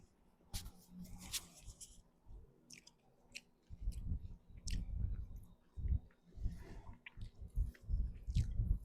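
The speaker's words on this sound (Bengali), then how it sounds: "চিকেন কারি দিয়ে খাচ্ছি এখন।" Close, wet chewing and soft squishing of rice with chicken curry in a Chinese meal, in repeated rhythmic bursts with brief pauses between mouthfuls and no talking.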